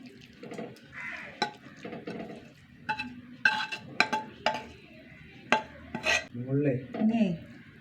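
A spoon stirs biryani in a pot, scraping and clinking against the metal in irregular strokes with soft sizzling underneath, near and moderately loud, while someone talks intermittently.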